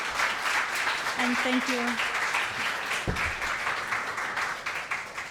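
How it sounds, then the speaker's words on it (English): Steady applause from the audience at the close of a panel discussion on the global trade war, continuous clapping with a brief spoken thank-you over it partway through. "could you please join me to give them a round of applause, please?"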